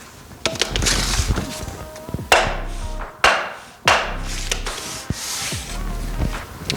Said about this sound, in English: Tap her this way, and tap her in place.